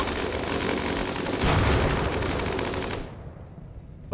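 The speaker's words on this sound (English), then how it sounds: "they're shooting the grenadier" Dense, continuous gunfire in a Rimworld colony battle, with rapid automatic bursts and heavier booms that fade in the last second.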